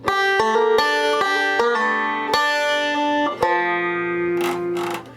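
A banjo plays a slow rolled chord, individual plucked notes ringing out one after another and sustaining into a held final chord.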